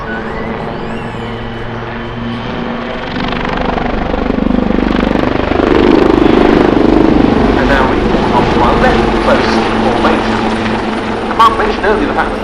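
A Royal Navy Wildcat HMA.2 helicopter performs a flying display at an air show, its rotor and turbine roar swelling loud as it passes close, then easing off. A commentator talks over it.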